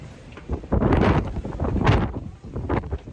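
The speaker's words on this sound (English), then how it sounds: "It's a wee bit windy." Gusty wind buffets the microphone outdoors in Scotland in uneven rumbling surges, rising and falling over a few seconds, with no one speaking.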